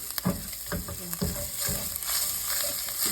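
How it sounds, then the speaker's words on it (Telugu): A curry base seasoned with turmeric fries in a pan, giving a low, steady sizzle broken by several short scraping stirs in the first half, close by with no talking. "ఇది మంచిగా ఫ్రై అయిపోవాలి"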